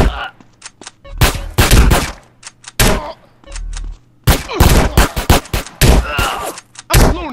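Gunfire in a jail cell killing scene, with bursts of loud close shots and rapid volleys broken by short gaps, mixed with shouting voices and thuds.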